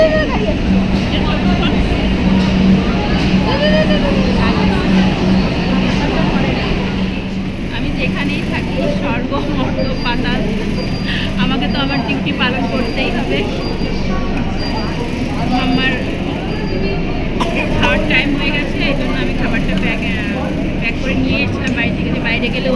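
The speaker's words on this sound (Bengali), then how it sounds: "ওই দেখ গাড়ি আসছে" A train rumbles steadily into a station, its continuous roar and rattling carriages filling the scene while people talk nearby.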